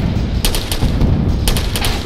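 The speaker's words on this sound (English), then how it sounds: "what was that big explosion that just happened right behind us? RPG. That was an RPG." An RPG explodes in a combat game, a heavy booming blast amid sharp repeated gunfire cracks, loud and close with dense rumbling battle noise throughout.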